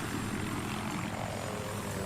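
Little Bird helicopter in Battlefield 3, its rotor and engine whirring in a steady, loud, continuous drone with no voices over it.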